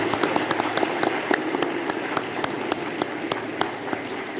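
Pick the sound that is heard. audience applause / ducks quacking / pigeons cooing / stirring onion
audience applause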